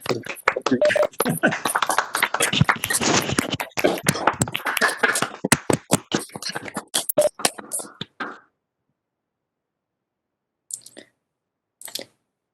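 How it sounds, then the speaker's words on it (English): A burst of applause from several people over a video call, rapid claps for about eight seconds, then near silence with a couple of faint clicks. "everybody, please unmute and we can give Frank a quick applause"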